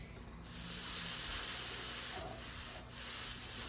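Steam hisses against a wooden guitar body to lift out an indentation. After a brief quiet start there is a close, continuous breathy hiss with slight swells as the steam moves.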